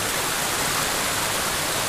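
A small mountain stream or little waterfall on the Welch Mountain trail in the White Mountains, a steady dense rush of splashing water heard up close with no other sounds.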